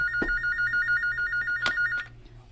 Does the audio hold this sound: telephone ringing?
yes